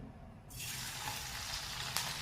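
Ginger hits hot oil in a kadhai over a gas flame and sizzles: a loud, steady frying hiss that bursts in about half a second in and holds without a break.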